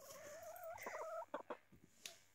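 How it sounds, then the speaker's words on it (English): Backyard chickens clucking close by, a run of warbling calls followed by a few short clucks, faint and recorded up near the birds. "There are chickens."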